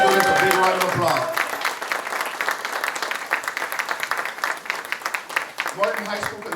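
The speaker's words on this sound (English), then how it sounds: "Let's give our students a big round of applause." Students at a dedication ceremony for the Ruth Young Tigers Den at a Laredo high school get a loud round of audience applause, dense clapping that fades slightly, follows a brief voice and swells again at the end.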